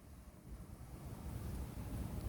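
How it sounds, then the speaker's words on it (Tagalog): Wind buffets the microphone in low rumbling gusts that build louder toward the end, with no one speaking. "Sarap ng hangin. Mahangin."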